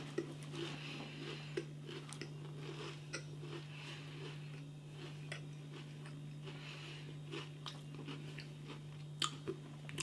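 Crunchy Pringles potato chips, mac-and-cheese flavoured, being chewed close up: soft, repeated crunching and munching bites over a steady electrical hum, with no talking.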